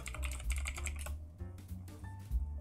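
Keys clatter on a computer keyboard in a quick, uneven burst of taps while a node name is typed into an Unreal Engine 5 Blueprint editor, close and clear with no talk.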